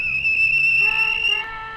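Guard's whistle on a railway platform blows a shrill, sustained tone for over a second, loud and close, then shifts pitch and fades.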